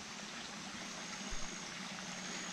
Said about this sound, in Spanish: Aquí se oye un río.